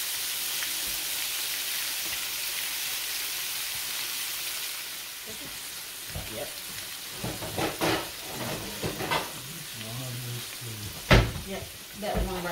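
Garlic pepper shrimp sizzle in a frying pan with a steady close hiss, broken after about five seconds by clatters and scrapes from stirring.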